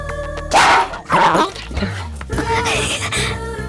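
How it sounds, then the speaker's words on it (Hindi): A dog barks in a few loud bursts heard as if through a phone line, mixed with voices and background music in a dubbed South Indian action film scene. "फोन पे कोई कुत्ता भौंक रहा है"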